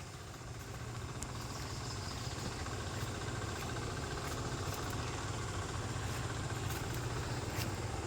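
Tractor and irrigation pump engines run together in a Philippine rice field, a continuous low droning rumble held at a steady level throughout, with no talk.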